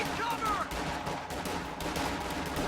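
Rifle gunfire crackles through a video game battle with a grenade opening, steady shots and bursts under continuous game noise at moderate volume.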